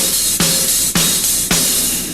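Drum kit groove with eighth notes on kick and hi-hat and the snare on the upbeats, three strong accented hits spaced evenly over a bright cymbal wash, loud and close with no talking.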